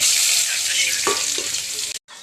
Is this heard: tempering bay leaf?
yes